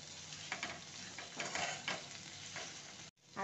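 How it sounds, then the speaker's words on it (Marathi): Ground spice paste frying in oil for a wet moong dal curry, a steady close sizzle with stirring scrapes that stops abruptly near the end. "आपण ह्याला अगोदर भाजलेलं आहे चांगलं, त्याच्यामुळे ह्याला जास्त तेलात जास्त वेळ भाजण्याची आवश्यकता नाही, पण थोडंसं भाजते"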